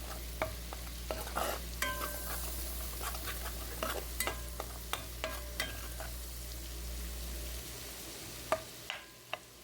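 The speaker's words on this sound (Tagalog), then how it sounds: "Susuti lang natin hanggang lumabas yung kanyang aroma" Minced garlic sautéing in melting butter while being stirred in a pan, with a steady low sizzle under repeated clicks and scrapes of the spoon against the pan.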